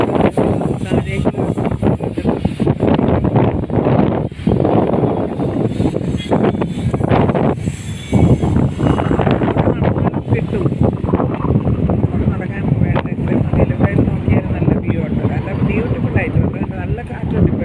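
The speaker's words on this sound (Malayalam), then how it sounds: "നല്ല കാറ്റുണ്ട്" Strong wind buffets the microphone on a hotel rooftop overlooking Trivandrum city, a loud, continuous roar that gusts unevenly throughout, with a voice talking over it.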